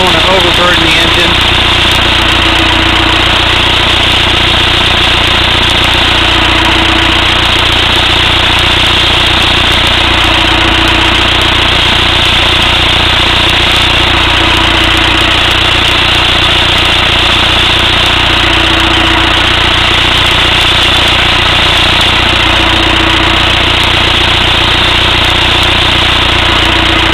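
A fully warmed-up VW TDI diesel car engine idles during a water-mist decarbonization, a loud, constant, rough drone with a faint periodic pulse that goes on steadily without a break.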